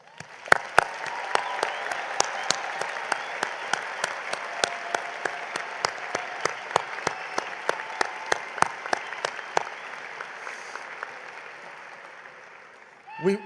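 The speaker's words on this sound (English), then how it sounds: "please join me in giving the class of 2024 a congratulatory round of applause" An audience at a fall 2024 graduation commencement applauds the graduating class, with a steady, dense wash of clapping and a few sharper close claps. It carries on for over ten seconds, then slowly fades.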